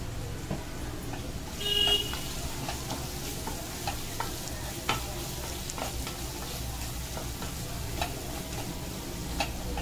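Biryani masala fries in a pan of oil for prawn rice, giving a low, steady sizzle. A spoon scrapes and taps now and then, with one brief louder clatter near the start.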